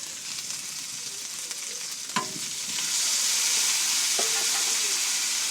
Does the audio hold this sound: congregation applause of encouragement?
no